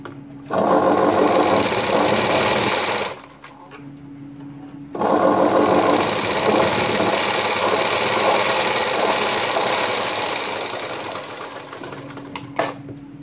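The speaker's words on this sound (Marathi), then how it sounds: "ही आपल्याला इकडे दाब शिलाई मारायची" A sewing machine stitches the lining of a blouse sleeve with a press stitch, running in two long steady bursts with a short pause between them, loud and close with no talking.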